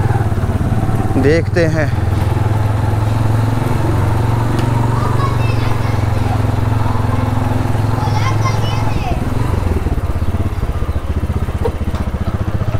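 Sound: motorcycle riding and idling

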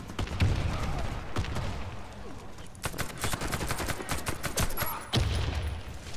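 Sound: gunfire in video game Warface

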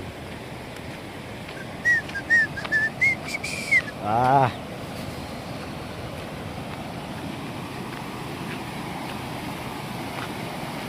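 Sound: water rushing over overflowing lake weir

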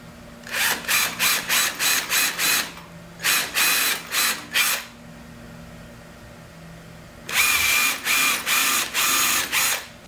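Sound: drill countersinking screws in teardrop trailer galley hatch

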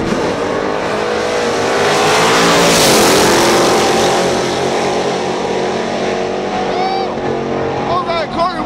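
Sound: drag race cars racing at Fayetteville

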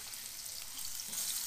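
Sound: butter melting in a hot frying pan

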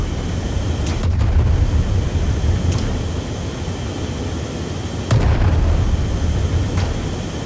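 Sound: airship front cannon firing in video game Worlds Adrift

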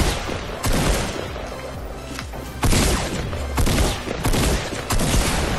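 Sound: gunfire in Fortnite video game

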